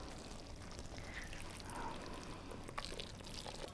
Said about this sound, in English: Just dump all your spaghetti